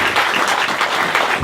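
A church congregation applauding, dense steady clapping from a crowd filling the room, loud and close, with no pause.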